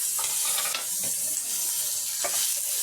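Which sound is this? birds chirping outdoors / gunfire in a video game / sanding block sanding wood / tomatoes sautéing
tomatoes sautéing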